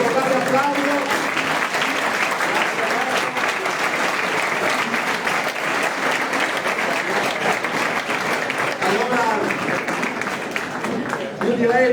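Sustained audience applause for regional presidential candidate Alberto Stefani at a Veneto election programme presentation, a dense, even wash of many hands clapping close and loud throughout, with no letup.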